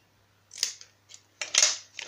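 Scissors snipping a small ribbon for a homemade Christmas card, two or three crisp close cuts in quick succession over a faint steady hum.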